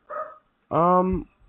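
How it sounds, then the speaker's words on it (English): A single dog gives a short, muffled bark followed by a longer, louder, drawn-out yelp-like bark, close by and alone, with no talking over it. "Sorry if you hear barking"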